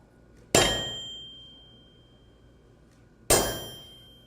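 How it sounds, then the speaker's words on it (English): A hammer strikes a chisel twice along a marked line, each blow a sharp metallic clang with a ringing tail, about three seconds apart, close and distinct. "I'm going to do it just like I'm chiseling, and I'm going to walk it down my line"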